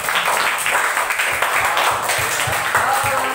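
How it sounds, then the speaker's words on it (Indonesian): A classroom of students claps hands together in dense, steady applause that fills the whole moment, close and fairly loud with no gaps. "Tepuk tangan"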